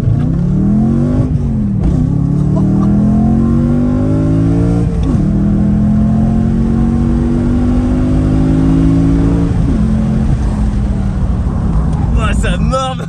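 A BMW M3 E92 revs hard while drifting, with repeated rising engine sweeps broken by sharp blips from heel-toe downshifts, loud and close. People talk over it throughout.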